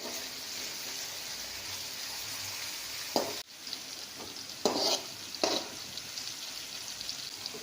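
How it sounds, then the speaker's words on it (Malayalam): Sliced bitter gourd sautéing in hot oil for pickle: a steady, moderately quiet sizzle and crackle with a few sharp stirring clinks and scrapes of a utensil against the pan. "എണ്ണയിലോട്ട് ഇനി പാവയ്ക്ക ഇട്ടൊന്ന് വഴറ്റി വയ്ക്കാം."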